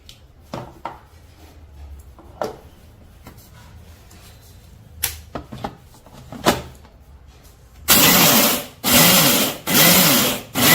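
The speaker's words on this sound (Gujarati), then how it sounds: "જો આ ગાંગડા છે એને મિક્સરમાં પીસવાના છે." A mixer grinder grinds dried lemon lumps into powder, first with scattered knocks and brief bursts, then loud roaring runs of the motor in several pulses near the end.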